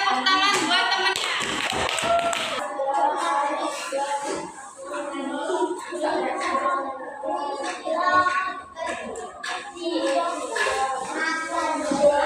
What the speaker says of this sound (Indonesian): Ya kasih tepuk tangan buat temennya.